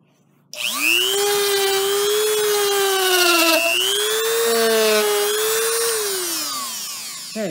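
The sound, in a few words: WEN 2305 rotary tool sanding grooves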